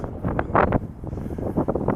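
Strong wind gusting on a very windy day beside a narrowboat, a rough continuous roar with surging bursts that buffet the microphone at close range.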